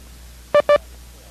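Two short, clean Morse code tone bursts, dit-dit for the letter I, at steady pitch against faint background hum, spaced closely and sounding alone.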